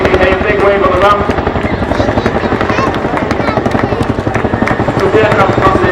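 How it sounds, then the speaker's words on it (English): A Chinook twin-rotor helicopter passes slowly from left to right during an air show display, its loud, continuous rapid rotor thudding steady throughout. "The aircraft passes from left to right at a fairly slow speed."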